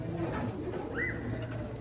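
Racing pigeons coo in a crowded loft, with a soft, low, rolling coo standing out over a dense murmur of birds and faint background noise.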